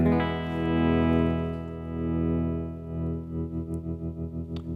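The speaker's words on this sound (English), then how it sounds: "let's get back to a clean tone and hear that trem" A clean electric guitar chord through a Blackstar AMPED 2 amp rings out with a pulsing tremolo, the volume swelling slowly at first and then throbbing faster and evenly near the end.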